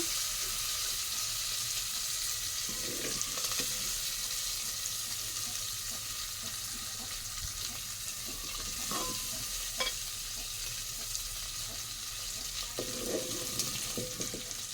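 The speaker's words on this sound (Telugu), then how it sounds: "మా మసాలాలో ఏగినాయి కదా రొయ్యలు" Raw prawns frying in masala in a home kitchen pan give a soft, continuous sizzle, with a few louder stirring scrapes and clinks that stand out against the quiet background.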